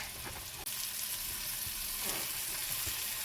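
Floured beef pieces browning in a hot pan for stew give a steady, dense sizzle and crackle throughout, with a brief dip near the start and small pops scattered across.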